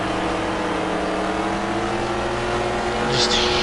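A race car engine in the Dirt Track Racing 2 video game drones at a steady high rev, buzzing like a two-stroke with layered harmonic whine, loud and continuous, with a brief spike near the end.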